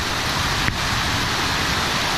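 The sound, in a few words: rain in a thunderstorm in French Guiana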